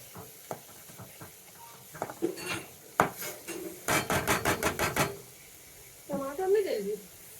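Cabbage and carrot stirred into a spiced curry in a pan, with scraping and clattering strokes, a dense burst of rapid utensil knocks in the middle, and faint sizzling under intermittent talk.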